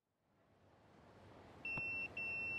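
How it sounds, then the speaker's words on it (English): A pager beeps in the Yakuza game Dame Da Ne, two sharp electronic tones with a brief gap, rising out of faint background hiss. "That's my beeper."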